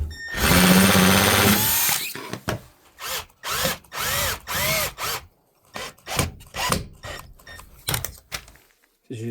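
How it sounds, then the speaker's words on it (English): A power drill whines loudly for a couple of seconds, then revs in a series of short bursts with pauses between them, drilling holes for a wine cooler. "Now I have to do is drill some holes right back here"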